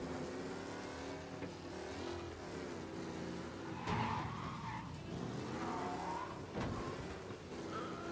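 A car in the video game Mafia: Definitive Edition driving with its engine droning and revving, broken by two sharp tire skids, continuous and fairly loud with no talk.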